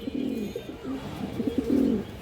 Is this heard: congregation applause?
no